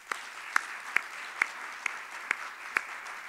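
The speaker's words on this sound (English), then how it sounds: "Please join me in a very appropriate final round of congratulations and applause for our honoree" Audience clapping for a research honoree at an awards ceremony, a steady even wash of applause with a few sharper claps standing out, sustained throughout without voices.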